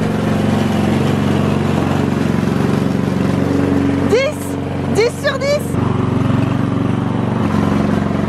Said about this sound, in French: est en train de passer la tondeuse